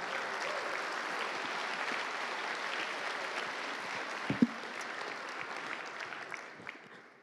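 Sustained audience applause at an awards ceremony for a miniature painting competition, a broad even wash of clapping that carries on for several seconds before tapering off, fairly distant and soft.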